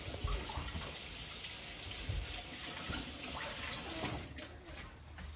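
Running tap water splashes steadily over skin as peanut butter and tree sap are rinsed off an arm, a continuous close hiss with small shifts in the splashing and no talk.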